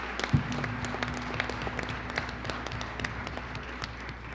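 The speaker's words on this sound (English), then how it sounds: "Let's give a round of applause for all of those groups" Scattered clapping from an audience at a Colorado gubernatorial forum, moderately quiet and uneven over a low steady room hum.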